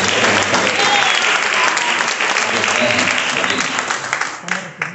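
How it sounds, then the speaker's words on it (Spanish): A church congregation at a deliverance seminar in Lakewood, New Jersey claps in a dense, loud round of applause that tapers off near the end, with voices mixed in. "Un aplauso a Jesús."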